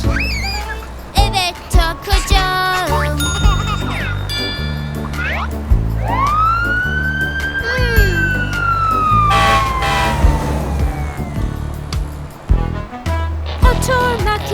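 A fire truck siren wails with a long rising and falling tone, loud and close, amid clattering noises and occasional voices.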